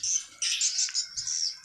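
Swiftlets chirp at a swiftlet house, giving a continuous stream of high, shrill, rapid tweets and twitters that are loud and close, with no voices.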